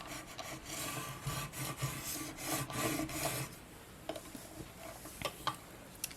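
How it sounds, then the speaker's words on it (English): A scraper tool rubs vinyl onto transfer tape in repeated quick scraping strokes, close and quiet, then a few faint ticks and taps as the work slows. "we're going to take our scraper tool and just go over it a few times"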